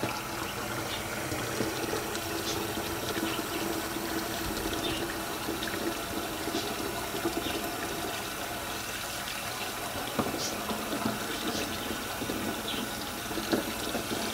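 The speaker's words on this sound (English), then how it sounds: "I'm going to run some cold water in here." Cold water runs continuously from a kitchen tap, a steady close rushing hiss with small splashes throughout and no talking.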